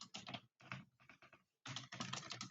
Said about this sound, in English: we will click on edit button and then just type data science